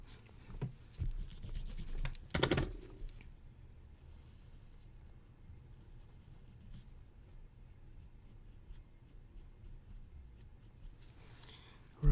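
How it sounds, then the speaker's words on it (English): Pencil drawing a helix and ellipse on paper in a calculus lesson, heard as soft scratchy strokes with a few louder scribbles near the start, then faint, steady rasping, no talk. "So essentially what we have is like a spring or a helix. Anyway, so try to draw with pencil here."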